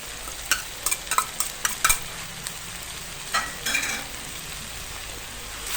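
Holy basil leaves stir-fried in a pan for a spicy Isan-style dish, with a constant hissing sizzle and a run of quick spatula scrapes and taps in the first half, then a couple more later.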